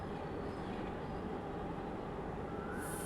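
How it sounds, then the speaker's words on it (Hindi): A metro train passes in the city, a steady loud rumble of wheels and carriages for a few seconds with a faint high squeal near the end, no talk. "देखो मेट्रो"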